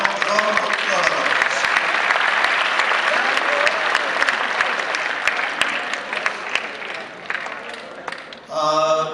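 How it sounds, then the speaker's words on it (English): Audience applause fills a school hall at an interschool junior debate, a dense sustained clatter of many hands clapping for about eight seconds before it fades and a voice begins speaking. "Give them a round of applause."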